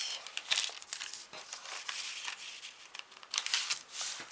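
Folded paper doilies rustle and crinkle while being handled and pressed onto a greeting card, soft irregular crackles and taps close by, no speech.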